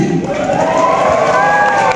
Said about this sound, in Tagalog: isang sigaw Palakpakan na may kasamang sigawan